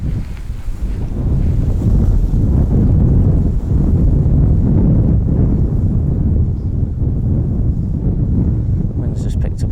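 Strong wind buffets the microphone at a lakeside fishing spot, a loud, steady roaring rumble that fills the whole stretch with no break.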